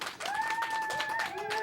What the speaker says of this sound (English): We got hoots and hollers from the crowd.